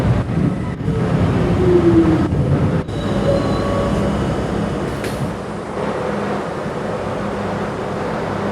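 An R40 Slant subway car on the C local runs loud and steady throughout, with a continuous rumble of wheels and motors and occasional faint squeals, no voices.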